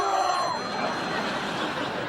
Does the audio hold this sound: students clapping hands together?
no